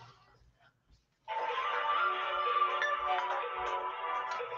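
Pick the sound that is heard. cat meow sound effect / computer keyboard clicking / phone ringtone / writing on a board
phone ringtone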